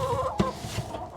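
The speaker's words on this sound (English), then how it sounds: "Now he's got to get the chickens in the coop." A few short, soft chicken clucks sound up close at a muddy winter coop, one slightly louder than the rest, with no talking.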